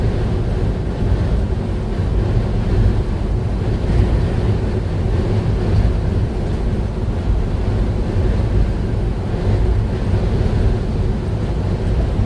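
Strong wind roars past on a highway alongside tractor-trailer traffic, a loud, steady rush and buffeting that fills the clip, with no voices.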